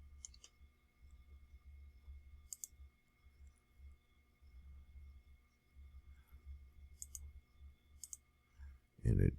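Sparse sharp mouse clicks while working in Fusion 360 CAD software, a few single clicks spread across a quiet stretch with low background hum, the last one louder.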